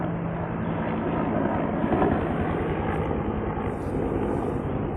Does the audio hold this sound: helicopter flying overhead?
yes